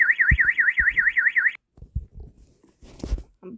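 A rapidly warbling electronic fire alarm rings loud and close in a dark school in a video game, sounding for about a second and a half before giving way to scattered thumps, clatter and a brief burst of noise.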